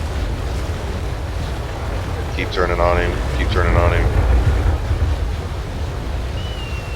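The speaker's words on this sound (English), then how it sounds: "wait for the sail, wind and the waves" Steady wind and ocean wave noise in the naval sailing game Naval Action, a constant broad rush throughout, with someone speaking briefly over it.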